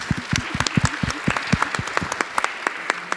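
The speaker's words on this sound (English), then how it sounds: "A round of applause for that." At a business panel on women in leadership, a modest audience gives a round of applause: distinct, close hand claps in a lively, uneven patter, with no talking over it.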